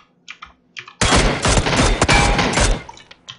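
Dense burst of rapid gunfire in the battle royale game PUBG, loud and close, erupting after a brief quiet and running for about two seconds before cutting off.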